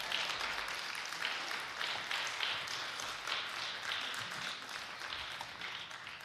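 A sustained round of audience applause at an annual event, dense and steady with many hands clapping at once, holding a fairly even level for several seconds without any voices over it.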